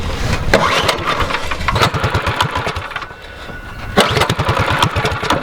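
A street go-kart engine, out in the dirt, sputters and catches, then revs in choppy rising bursts with a brief lull before roaring up again close by.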